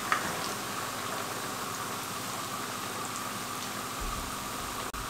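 Potato-stuffed bread rolls deep-frying in hot oil, a steady, even sizzle with fine crackling that holds at constant loudness throughout, close by and with no voices over it.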